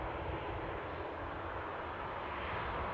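Steady, loud roar of a Jet2 jet airliner pushing back at Newcastle airport, a continuous broadband engine rumble heard from a distance with no breaks.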